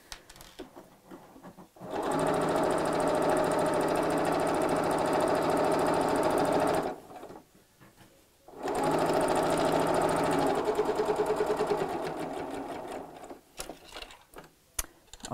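Stitching a chenille clutch bag, a sewing machine runs in two long, steady bursts of rapid mechanical clatter separated by a short silence, close and loud, with a few quieter handling clicks at the end and no voices.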